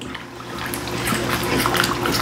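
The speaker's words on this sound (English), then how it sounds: "Go ahead and give it a half a cup of beef broth." Half a cup of beef broth pours into a sizzling beef and broccoli stir-fry, a short liquid rush that builds into bubbling splashes over a steady kitchen hum.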